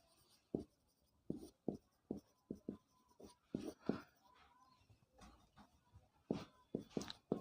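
Chalk or marker writing on a board during a physics lecture on superconductivity, heard as a string of short scratchy strokes in irregular bursts, close and fairly quiet, with no talking.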